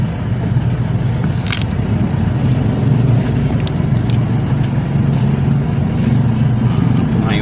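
An engine with a freshly fitted battery runs loud and steady at a constant idle rumble, close up and unbroken throughout, with no clear start captured.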